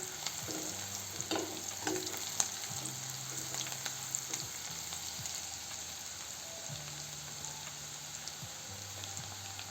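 Spices with coriander powder stirred into okra frying in a pan with gram flour, a steady low sizzle with soft scraping strokes and a faint background hum running throughout.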